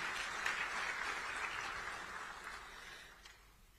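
Applause for heads of state at an emergency SADC summit on the DRC crisis, opened by Zimbabwe's president: a soft, distant round of clapping from the hall that fades gradually toward the close.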